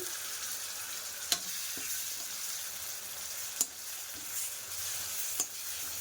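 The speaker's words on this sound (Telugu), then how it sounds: "మనకు ఆనియన్స్ కూడా బాగా వేగుతున్నాయి కదా ఈ టైంలోనే ఆనియన్ పేస్ట్ కూడా వేసేసుకుని బాగా మిక్స్ చేసేసుకోవాలండి" Onions sizzle steadily with onion paste in a pan for a prawn and egg curry, a continuous hiss broken by a few sharp clicks of a spoon stirring against the metal, no voices.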